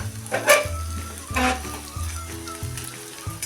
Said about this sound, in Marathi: बघा कसा छान लालसर होईपर्यंत आपला हा लसूण परतून झालेला आहे